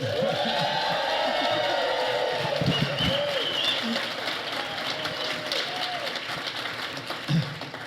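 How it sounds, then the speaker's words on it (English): A crowd at an education summit applauds with dense, continuous clapping and a few cheers, fading slightly toward the end. "give them a super loud and obnoxious round of applause"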